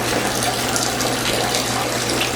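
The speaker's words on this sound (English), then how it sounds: "I'll take a little bit of tank water and just rinse the edges here" Reef tank water poured to rinse the edges of a protein skimmer during maintenance of a 600-gallon reef aquarium, a steady close splashing rush with a constant low hum beneath.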